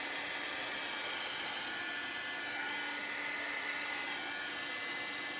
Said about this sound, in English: It's taking a little while for my dryer to dry